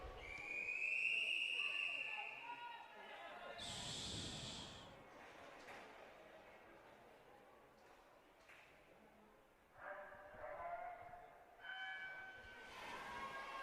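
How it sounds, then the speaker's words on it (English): A referee's shrill whistle at a county swimming championship in an echoing indoor pool, a loud sustained blast at the start followed by a second tone, then reverberant hall ambience and a few more short whistle-like tones. "That whistle is leaving me with no eardrum."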